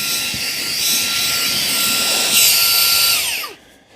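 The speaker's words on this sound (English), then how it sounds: "Let's go to high. Really powerful blower." A Fanttik Slim V10 Mix cordless vacuum with its blower nozzle fitted, running on the high setting: a loud, steady, whining rush of air close by that spins down and cuts off near the end.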